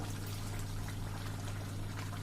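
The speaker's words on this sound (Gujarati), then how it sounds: "હવે આપણે આ સ્ટેજે એને આપણે 250 ml દૂધ નાખી દેશું" Milk, 250 ml, is poured into bottle gourd khichdi cooking in a pot, a steady continuous liquid rush over a low hum, with no talk.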